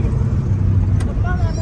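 Steady low engine rumble and road noise from inside a moving car on a foggy drive home, continuous and fairly loud throughout.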